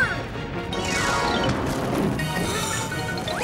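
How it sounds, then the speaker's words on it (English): A cartoon stone statue cracks and breaks away from a mountain as ice splits the rock, giving a sustained loud grinding crash with crumbling debris and no voices. "The ice is splitting the rock! Ah, the statue's breaking away from the mountain!"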